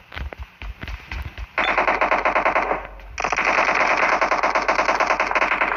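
Automatic gunfire in the mobile game PUBG Mobile. A few separate shots come first, then loud, continuous rapid-fire bursts with a brief break partway through.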